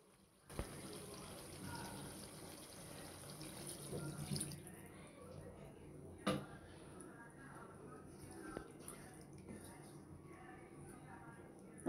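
Water pours from a tap or jug into a pan of fish curry with potato and pointed gourd, a faint steady splashing stream with a few clinks, while a person talks quietly nearby.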